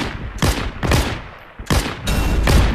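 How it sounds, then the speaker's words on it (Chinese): Anti-tank rifle fire in the video game Battlefield 1: four heavy, booming shots in quick irregular succession over about three seconds, loud and close. "但是开几枪示威啊，总是可以的"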